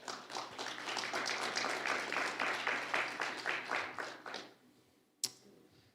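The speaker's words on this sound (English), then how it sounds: "please give a warm round of applause to Zhang Chunying." Audience applause at a live innovation and intellectual property forum, a steady burst of many hands clapping for several seconds that fades out, followed by a single sharp tap.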